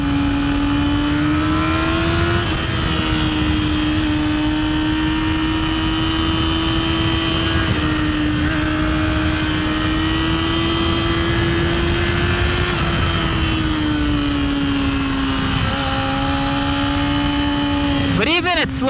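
A 600cc motorcycle engine hums steadily and loudly at low speed while riding, its pitch rising and falling gently with small throttle changes, a continuous close drone with wind rush, ending in a brief quick rev near the end.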